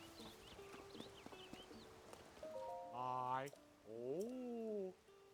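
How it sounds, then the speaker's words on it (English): A horse's hooves clip-clop in Zelda: Tears of the Kingdom as it is ridden, a quick light patter under game music with sustained tonal notes. "I'm gonna take out my horse and we'll ride to it."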